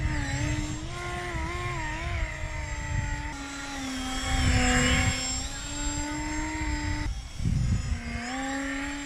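A DIY twin-rotor RC gyrocopter model in flight gives a steady whining buzz from its motor and rotors, rising and falling in pitch as it manoeuvres, loud and fairly close the whole time.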